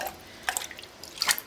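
Running water rinses out a cooking pot or container during soup preparation, with soft, intermittent splashes and drips at moderate volume over a quiet kitchen background.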